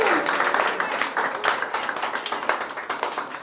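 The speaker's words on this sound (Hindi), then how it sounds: "जोरदार तालियां अपनी टीम की।" At a song-launch event in an academy, people applaud their team with lively clapping, heavy at first and then thinning into more distinct, rhythmic individual claps toward the end, fairly close and loud.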